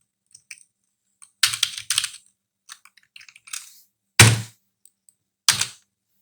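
Someone types a paragraph on a computer keyboard: scattered, quiet key clicks broken by a few louder thunking keystrokes, close and with gaps of silence between bursts.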